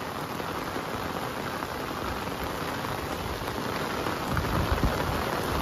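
Heavy rain pours steadily over a mountain village as a dense, continuous roar that swells slightly louder near the end.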